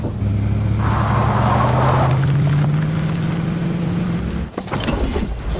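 Game car in Fortnite driving with a steady engine drone that rises in pitch as it accelerates, loud and continuous, with a brief dip and bump near the end.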